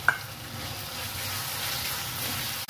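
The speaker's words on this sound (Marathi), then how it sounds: "आता कोलंबी याच्यात शिजून घेऊया, चांगली परतून घेऊया." Prawns cooking in a pan with onion and tomato for kolambi pohe, giving a steady close sizzle with light stirring throughout, with no voices.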